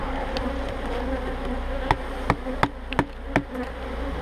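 Honeybees buzz steadily around an opened hive during a spring inspection, a close, continuous drone broken by several sharp knocks and taps on the woodwork.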